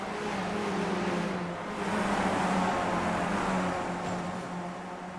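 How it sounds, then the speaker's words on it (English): Race cars roar past at Bathurst with a steady engine drone, their rumble swelling and easing as they pound over bumps on rough track. "I just hear the bumps of those cars."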